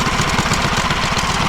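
A drag racing mini bike engine runs steadily at a close, loud idle-like putter with an even pulsing rhythm and no talking.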